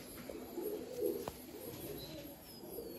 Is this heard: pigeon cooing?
yes